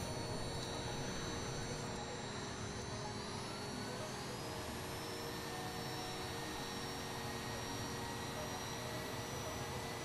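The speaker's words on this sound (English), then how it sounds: "Can already hear the engine of Stu's jet" Steady, loud whine and rush of a Caproni Vizzola C-22J jet engine in Microsoft Flight Simulator 2020, with a continuous broadband roar and faint rising tones running unbroken throughout.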